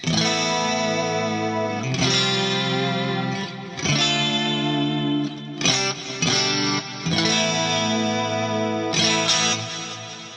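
Electric guitar chords strummed in bursts with a lush, wavering chorus from chorus effects run in series on a Fractal FM9 Turbo, and slight grit, each chord ringing out before the next.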